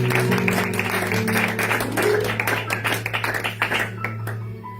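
A church congregation applauds in a steady wave of clapping that thins into scattered claps before fading, with a sustained organ-like tone running beneath.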